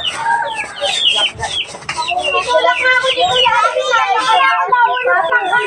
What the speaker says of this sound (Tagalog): Marami naman mang manok, oh. Alagang manok.